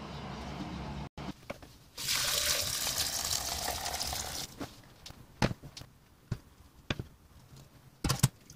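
Homebrew beer wort being filtered from the pot of malt: a rushing pour of liquid for a couple of seconds, then scattered splashes, drips and knocks, close by with no talk.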